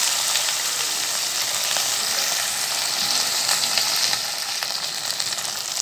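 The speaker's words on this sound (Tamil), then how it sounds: "இந்த கத்திரிக்காய் முருங்காய் வந்து ஆயிலே வெந்து வந்துட்டுருக்குது" Eggplant and drumstick pieces fry in hot oil for a spinach and eggplant curry, producing a constant dense sizzle that holds loud and even throughout.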